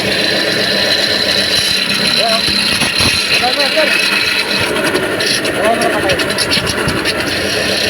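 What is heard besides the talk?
noisy Toyota Hilux engine running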